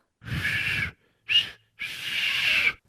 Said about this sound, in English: I'm trying to learn how to whistle